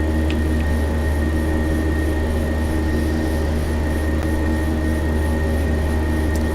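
Steady, loud roar of airplane jet engines in flight, a constant drone with a hum underneath, heard from inside the cabin with no talk.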